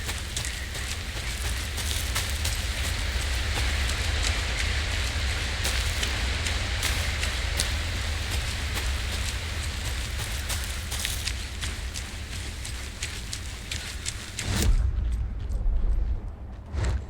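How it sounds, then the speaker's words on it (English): Steady, dense rainfall pours in the video game Alan Wake 2, a constant close hiss of drops on surfaces with faint thuds; it thins abruptly near the end. "Should have brought an umbrella. I like the rain."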